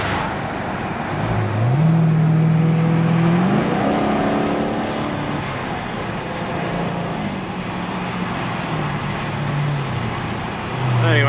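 A Dodge SRT 392 Durango drives on a highway in traffic, its engine climbing in pitch as it accelerates, then holding a steady drone under constant road and wind roar.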